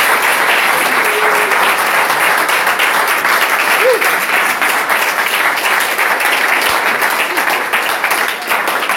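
Congregation applauding at a church gathering, loud sustained clapping throughout with a little voice underneath.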